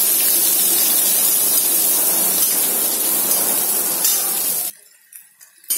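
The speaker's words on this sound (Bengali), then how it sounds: "পেঁয়াজ ভাজা হয়ে গেছে" Onions fry in a pan with a loud, even hiss and sizzle that holds for several seconds before cutting off abruptly, leaving only faint clinks and quiet.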